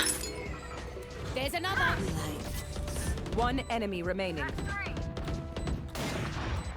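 Gunfire in Valorant, a burst of sharp shots with metallic clinks and weapon mechanics, loud and close under steady chatter and other voices talking throughout.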